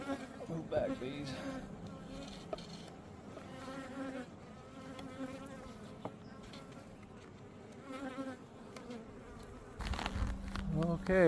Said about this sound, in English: Move back, bees.